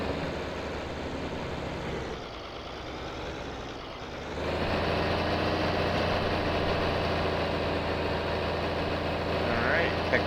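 A tractor engine runs steadily close by with a heavy baler hitched on behind, a continuous low rumble that shifts in tone and grows slightly louder midway, with a person talking faintly in the background.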